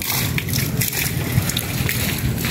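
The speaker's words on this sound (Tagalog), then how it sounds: "Dito nanggagaling binabagsak ng tubig." Water falling from above splashes steadily onto a surface outdoors, a dense continuous patter like heavy rain, fairly loud and close, with no clear talk.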